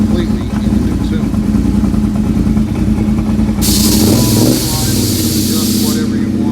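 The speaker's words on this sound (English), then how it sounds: "Majority of people have idle issues with the Kawasaki. These things idle up, they idle down." A Kawasaki Brute Force 750 ATV engine runs loud and close, a steady rough drone whose pitch shifts midway as the idle rises and falls, with a brief hissing burst and a voice underneath.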